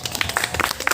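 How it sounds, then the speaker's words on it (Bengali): An audience clapping at a coaching centre's annual prize distribution ceremony, a short burst of scattered, fairly faint handclaps at moderate distance. "হাততালি দিয়ে সকলে উৎসাহ করো"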